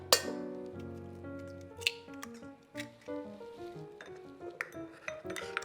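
A whisk or fork clinks against a bowl while eggs are beaten for a strawberry shortcake, a series of light, uneven taps and soft wet squishes, close and quiet with ringing pings between strokes.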